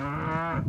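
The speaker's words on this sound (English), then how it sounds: "Got the cow just enjoying his day out here." A cow lets out one sustained, harmonic moo close by, filling the moment outdoors on a mountain horse property, with no talking over it.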